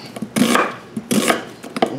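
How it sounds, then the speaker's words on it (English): A knife slices through an onion on a board in a home kitchen, with two heavier cutting strokes and several lighter taps close by and no talk. "So now we're just going to slice this onion up a little bit"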